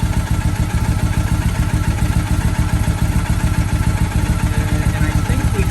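Motorcycle engine held at steady idle and lightly blipped during a throttle synchronisation check with a new German sync tool, producing a loud, continuous close-up rumble with rapid regular firing pulses throughout.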